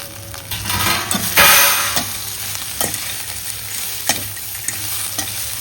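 Idli pieces fry in a little oil in a pan, giving a steady close sizzle with scraping stirs and a louder burst of frying near the start, no talk.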